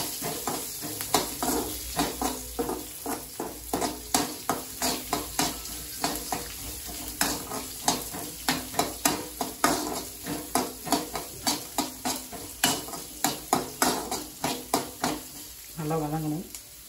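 Moringa flower greens sautéing with small shallots in a pan, a continuous close sizzle under rapid, rhythmic stirring strokes and scrapes for a long stretch, with a brief clatter near the end and no talking.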